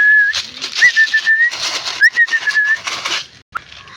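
Domestic pigeons released outdoors for the first time, their wings flapping in noisy bursts alongside a thin, whistle-like tone, with a sharp clap near the end.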